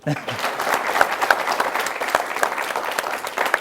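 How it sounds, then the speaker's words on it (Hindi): An audience applauds at a televised science event honouring the Mangalyaan mission team, a dense wash of clapping that runs steadily throughout with a few louder bursts. "ताली बजाइए।"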